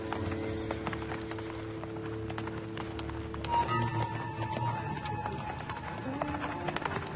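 A horse's hooves clip-clop faintly at a distance, a steady plodding rhythm under low background hum in an outdoor drama scene.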